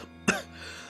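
A single sharp cough from a tabletop horror campaign player, close and fairly loud, with a short rough burst followed by a brief fading tail over a quiet room.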